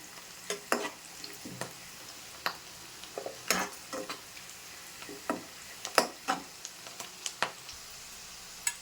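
Fish frying in oil for a fish pulusu curry, with faint, quiet sizzling broken by a series of short stirring scrapes and clicks that recur irregularly throughout.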